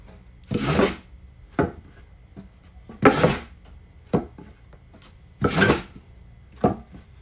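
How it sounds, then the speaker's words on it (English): A bow drill spins a spindle against wood to start a friction fire, with three long raspy grinding strokes separated by pauses and shorter scrapes and knocks in between, close and clear with no talking. "This is the bow drill."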